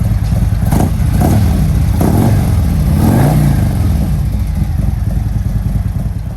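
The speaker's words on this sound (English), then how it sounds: "Bike sounds good." A 2021 Harley-Davidson CVO motorcycle fitted with a Stage II kit revs hard at close range, several loud throttle blips rising and falling before settling into a deep, rumbling idle with no talking.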